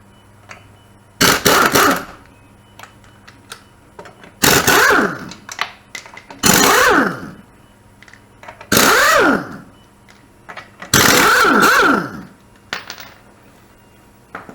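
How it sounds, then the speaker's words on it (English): Pneumatic impact wrench taking car lug nuts off a wheel, five loud, close bursts of rattling hammering roughly two seconds apart, each separated by near silence. "I'm going to use a little air power to take these lug nuts off."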